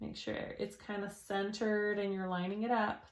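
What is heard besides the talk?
No distinct noise like a dog, phone or traffic.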